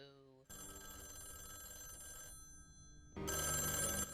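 A telephone rings in a series of bright, steady electronic bell tones that stop for a moment and then come back louder, with a voice heard faintly alongside.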